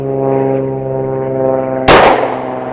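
A single sharp pistol shot from a PSA Dagger firing Federal Punch 124 grain personal defense ammunition cracks out loud and close near the end, after a steady droning hum from an aircraft overhead.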